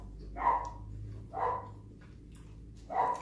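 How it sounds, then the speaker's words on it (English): A dog barks three times, spaced about a second apart, fairly faint and distant over a low steady indoor hum. "You probably hear a dog barking in the background."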